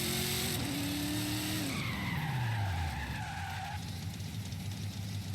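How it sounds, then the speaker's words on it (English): A car brakes hard during a brake test, tires skidding with a loud squeal as the engine note drops sharply, then a quieter idle afterward. "We're gonna see how fast this car will brake."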